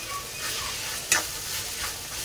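Methi (fenugreek) bhaji sizzles steadily in a pan as a spoon stirs it, with a sharp scrape or clink partway through and no voices.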